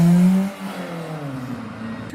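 A 2002 BMW at a car meet, its engine note droning low and steady before easing off, with a gentle rising rev near the end and faint crowd murmur around it.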